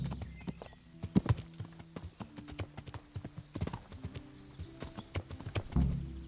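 Rapid clip-clop of horse hooves close by in the video game Kingdom Come: Deliverance, with a few snorts or whinnies mixed in, uneven and busy, over a low background hum.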